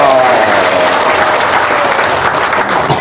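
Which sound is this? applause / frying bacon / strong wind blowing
applause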